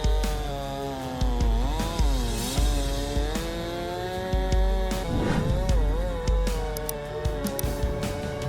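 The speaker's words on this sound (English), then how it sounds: "this chainsaw showdown unfolds, where man and machine take on the might of the forest" A big chainsaw cuts into a tree, its engine droning loudly and steadily with repeated bogging and revving as the blade bites through the wood.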